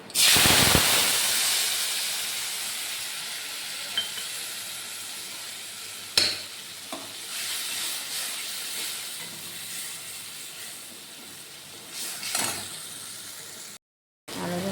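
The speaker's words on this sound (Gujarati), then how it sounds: "હવે આમાં છે ધાણા જીરું, હળદર ને ચટણી. આપણે વઘાર કરી નાખીએ." Dal tempering with coriander-cumin powder, turmeric and chutney hitting hot oil: a loud sizzling burst at the start settles into a long, steady hiss with a few sharp crackles and no voices.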